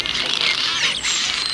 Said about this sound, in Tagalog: Ang pinagsama-sama panghuni ng mga ibon